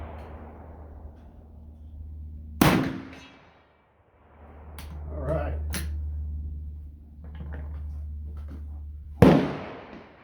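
Two loud, sharp shots from a U.S. Model 1866 Springfield infantry rifle chambered in .50 U.S. Government, fired outdoors about six seconds apart, each with a ringing decay and quieter rustling in between.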